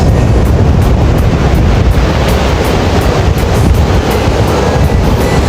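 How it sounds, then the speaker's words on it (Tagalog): Loud, continuous roar of rough surf and heavy wind buffeting the microphone, a dense wash of noise with no voices. "oh, malakas yung alon"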